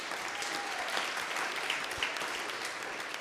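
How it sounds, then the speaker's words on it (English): A community forum audience on fair voting maps applauds briefly, a steady, moderately loud patter of many hands clapping throughout. "Well, you can if you want to applaud."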